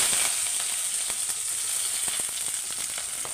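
Onions frying in oil with cumin and mustard seeds, a steady close sizzle with scattered sharp crackles and pops, no voices.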